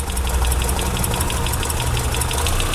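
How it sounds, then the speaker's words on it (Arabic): A car engine idles steadily in a workshop after a repair, giving a continuous even rumble with faint rhythmic ticking. It is close and heard alone, with no talk. "شفتوا الموتور تو مسكين ارتاح"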